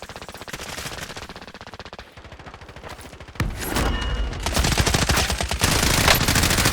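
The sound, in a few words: gunfire from a video game, player being shot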